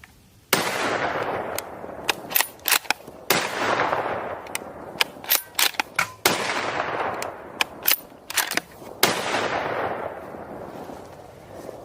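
A bolt-action rifle fitted with a Weaver scope and bipod fires repeatedly outdoors, loud sharp reports spaced irregularly over several seconds with echoing decay and metallic action clicks between shots.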